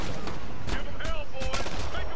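Gunfire in the video game Ghost Recon: Future Soldier, a rapid series of loud close shots and bursts with a voice talking over part of it.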